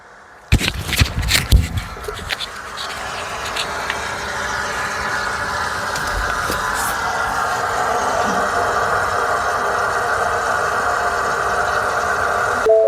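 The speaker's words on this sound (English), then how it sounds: "You can hear the pump running." A few clicks and clatters, then a steady electric pump hum that builds and drones on continuously, close by, as the diesel fuel pump of a Ford 6.7 Powerstroke fills the fuel filter and water separator.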